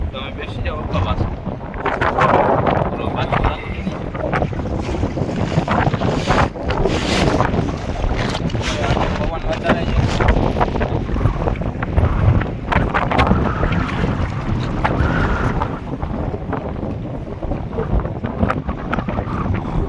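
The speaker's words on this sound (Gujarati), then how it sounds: "આજે પવન વધારે છે" Strong wind buffets the microphone at sea at night on a fishing boat, roaring and gusting continuously with water sloshing around the boat and occasional voices mixed in.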